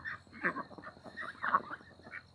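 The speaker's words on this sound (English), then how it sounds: "you could actually hear my ducks" Pet ducks quack at a moderate distance in a run of several nasal, honking calls. Two louder bursts stand out against a faint steady background hum.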